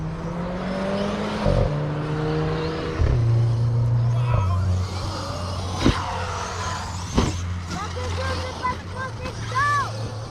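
A Traxxas Revo RC truck driving outdoors near grass, its electric motor whining and rising and falling in pitch as it accelerates and slows, with voices talking over it.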